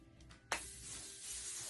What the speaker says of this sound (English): Now, this is where I spray it because that's going to give it a little bit of stiffness to hold nice.